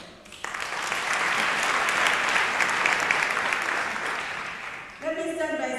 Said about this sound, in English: They require too acknowledgement and a round of applause